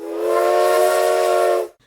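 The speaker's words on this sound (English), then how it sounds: "trains," A steam train whistle gives a single sustained, loud, breathy blast with a hissing edge, held for well over a second and then cut off.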